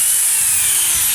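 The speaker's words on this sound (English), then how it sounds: "So next we use the 1500 grit sandpaper. We're going to apply that to our wheel" A drill spins a 1500 grit sandpaper wheel against a hazy car headlight, giving a loud, steady, close-up abrasive whir with no breaks.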